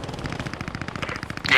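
A rapid burst of distant-sounding machine-gun fire rattles in the World War II shooter game Post Scriptum, with steady evenly spaced shots over a second and a half, ending in a louder rush of noise.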